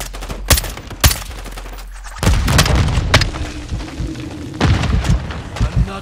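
Gunfire from the video game Call of Duty: Modern Warfare II: sharp, loud shots crack out in irregular bursts with heavy booming impacts and rumbling explosions between them, dense and close.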